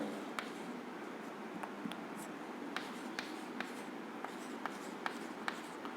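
A pen writes rows of zeros on paper in a maths exercise, a quiet steady scratching with small sharp ticks from each stroke, close and alone.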